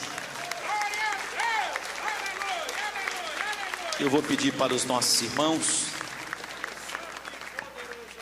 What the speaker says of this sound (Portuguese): Pode louvar a Deus com as palmas.